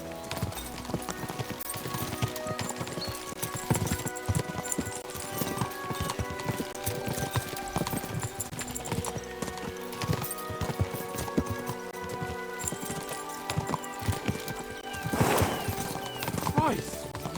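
Horses gallop in the medieval video game Kingdom Come: Deliverance II, with rapid, steady clip-clop hoofbeats running throughout, layered under game music and ambient sound.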